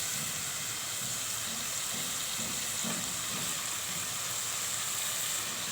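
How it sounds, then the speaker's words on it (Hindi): Spinach sizzling as it goes into fried masala with tomatoes and fenugreek for a palak methi salan, a steady soft hiss and crackle from the pan running evenly throughout with no voices. "अब इसमें पालक ऐड करूँगी।"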